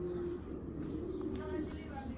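Expensive pigeons, tournament-flying Pakistani Giribaz breeds, coo in a low, steady murmur close by through the whole stretch, with a faint chirp or two on top.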